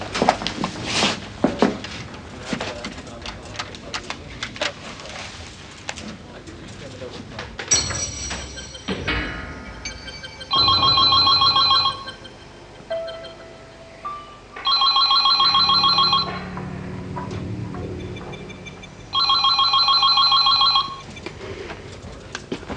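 A telephone rings unanswered indoors in a repeating double-burst pattern, three clear rings spaced a few seconds apart, after earlier footsteps and handling noises.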